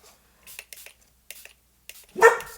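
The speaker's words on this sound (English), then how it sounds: "the dogs might have to go too. They keep on barking." Dogs barking indoors, a few faint scattered yips and muffled sounds before one loud close bark near the end.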